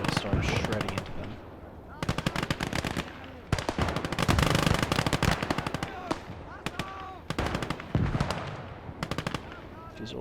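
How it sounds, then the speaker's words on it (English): Rapid bursts of machine gun fire in the Gates of Hell war game, German conquest campaign, crackling in repeated volleys of varying length with short pauses between, loud and close, mixed with other battle noise. "So they're just easy targets for like all my guns to just start shredding into them."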